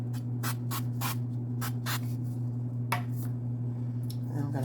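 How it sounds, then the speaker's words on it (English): Several short hissing sprays of olive oil spray into a casserole dish in quick bursts, close by, over a steady low electrical hum. "I'm going to take a little bit of this olive oil spray and just spray it down in my casserole dish."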